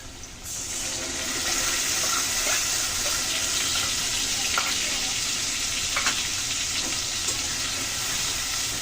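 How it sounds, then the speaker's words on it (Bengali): Potatoes and spices sizzling as they fry in a pan, a continuous close hiss with occasional spatters and stirring scrapes throughout. "আলুর সাথে মশলা ভালো করে কষিয়ে নিই"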